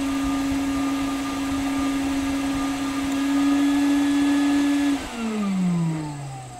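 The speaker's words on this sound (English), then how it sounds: "So here we are with the agitator and blower." Insulation blowing machine loaded with cellulose, its agitator and blower droning steadily with a strong tonal hum and loud hiss; near the end the pitch sags and slides downward as the agitator shuts off.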